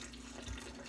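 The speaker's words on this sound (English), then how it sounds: "So now we're going to add our water" Water pours steadily for honey lemon ginger tea, a brief, quiet, even stream, with no talking.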